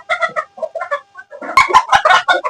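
A Malaysian short Serama chicken, a small ornamental breed on a hobby fowl farm, clucks in quick repeated bursts, close and loud, getting busier and more excited in the second half.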